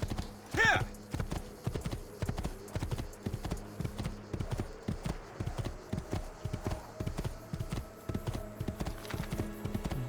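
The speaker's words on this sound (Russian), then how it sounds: "Да, странно, эта лошадь летит как-то." A horse gallops in the video game Assassin's Creed II, its hooves pounding in a steady, rapid clip-clop that runs the whole time, with a brief whinny near the start.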